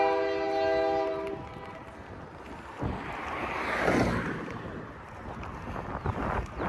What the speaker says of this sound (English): I think that stop train is finally taking off.